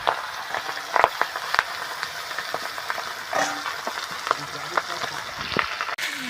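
Fish head pieces fry in a pan with a steady crackling sizzle, punctuated by occasional sharp pops and spatters, close and moderately loud, with no talking.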